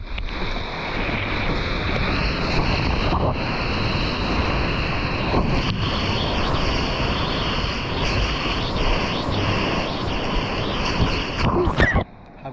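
Ocean surf and wind on Grumari beach in Rio de Janeiro with the tide rising, a steady broadband roar of breaking waves and gusting air rushing across the microphone, holding loud and continuous before a brief dip near the end.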